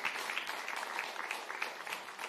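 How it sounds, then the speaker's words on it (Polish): A conference audience gives applause for a guest panelist, a short, even stretch of steady clapping heard at a moderate distance with no voices over it. "Brawa dla gościa."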